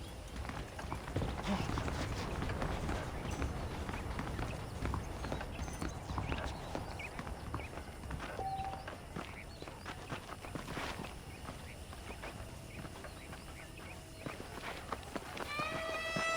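Horse hooves in the video game Red Dead Redemption clop steadily on the ground at a brisk pace, with faint background voices and occasional chirps over the rhythmic footfalls.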